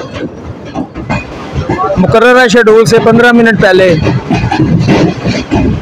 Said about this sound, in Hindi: हम इसी वक्त आउटर से रेलवे स्टेशन में दाखिल हो रहे हैं